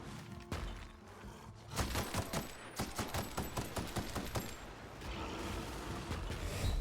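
Rapid bursts of shotgun fire in The Outer Worlds, a string of sharp, loud blasts clustered in the middle with short gaps between them, over steady game background ambience.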